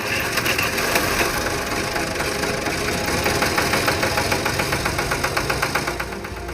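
A farm tractor brought from Aligarh idles at a farmers' protest near Delhi, its engine chugging loudly and steadily with a close, even knocking pulse and no voices over it.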